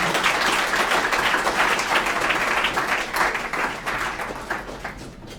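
An audience at a hackathon presentation event gives a round of applause, dense continuous clapping from many hands that stays strong and then gradually thins and fades toward the end.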